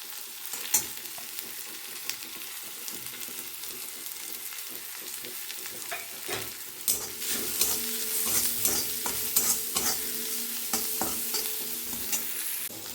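Sliced onions with salt and turmeric sizzle in a pan for a bathua greens paratha, a steady crackling fry broken by repeated scraping strokes of a spatula stirring them, close and growing busier toward the end.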